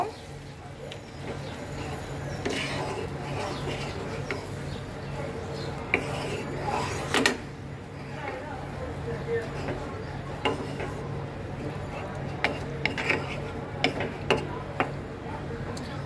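Spice masala being stirred in a cooking pot while simmering with a little water, with soft scraping and occasional metallic clinks of spoon on pot, under intermittent talk nearby.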